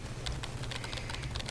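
Soft, rapid typing on a computer keyboard, a quiet, continuous patter of key clicks heard close up with no talking.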